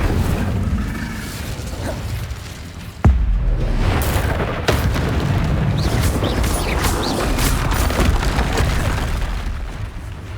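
In Hogwarts Legacy, a cast Incendio fire spell erupts with a sharp burst and booming crackle, followed by a sustained fiery roar with scattered pops and splintering hits from the ongoing fight.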